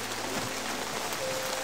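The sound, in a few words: heavy rain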